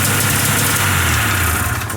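A 503 Safari engine idling steadily at just over 1500 rpm, a loud, continuous low rumble with slight vibration and no talking.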